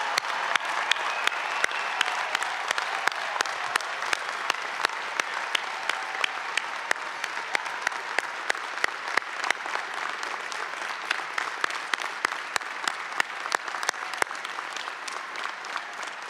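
A large commencement audience gives a sustained round of applause for officers and veteran graduates, dense steady clapping filling the hall for the whole stretch with no voices over it.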